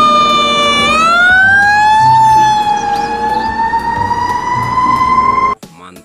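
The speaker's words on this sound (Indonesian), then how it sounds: "Mobil truk pemadam kebakaran." Toy fire truck siren wailing loudly and steadily up close, its electronic tone gliding slowly upward, then cutting off abruptly near the end.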